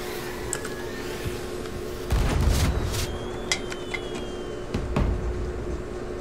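Video game fireworks burst in a scattered series of muffled booms and crackles, some distant and some closer, with thin whistling trails between the explosions and no talking.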